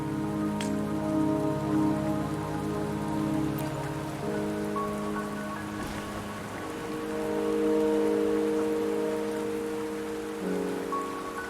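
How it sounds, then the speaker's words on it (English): Rain falls steadily in the video game Wuthering Waves, a soft continuous patter under a low, sustained musical drone. No voices are heard. "Don't worry, the rain won't last much longer."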